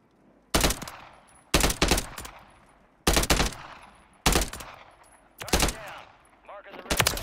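Striker SMG fire from the Call of Duty video game rings out in five loud, sharp bursts spaced about a second apart, each followed by a fading echoing tail, with no talking over it.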